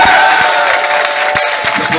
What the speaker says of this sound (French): Applaudissez-vous vous-même.